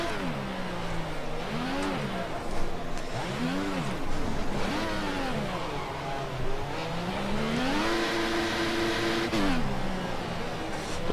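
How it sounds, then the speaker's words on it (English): An F1 2014 race car in a video game, its engine revving in rising and falling sweeps as the wheels spin, a steady loud whine that climbs and holds, with faint talk underneath. "Lots of wheel spin there."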